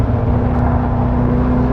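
A Caterham Seven 270S drives on a disused airfield track with a loud, close, steady engine drone and a constant buzzing tone, with no talk.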